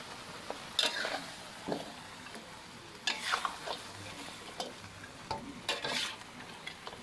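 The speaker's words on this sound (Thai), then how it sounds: "มาละผมทอดจนแบบมองไม่เห็นเนื้อแดงๆติดแล้ว" Crackling, sizzling pork ribs frying in an iron wok with intermittent scraping and clattering as the pieces are stirred, close up and without speech.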